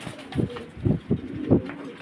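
Red Lahori pigeons coo inside a cage, several soft throaty calls in quick uneven succession, close and clear with no talk.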